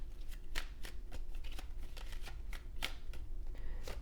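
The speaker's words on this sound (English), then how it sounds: "Let's take a look at the Kipper cards here." A deck of Kipper fortune-telling cards is shuffled in a continuous run of soft riffling and flicking bursts, close by and quiet, with no talking.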